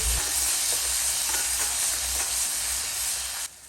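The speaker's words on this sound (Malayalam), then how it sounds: "നന്നായി ഒന്ന് കുറച്ചും കൂടി ഇളക്കി കൊടുക്കുക." Beef masala being stirred in a pan with the lid off for a Kerala-style beef roast, a steady close sizzle and hiss with soft scraping strokes that stops abruptly near the end.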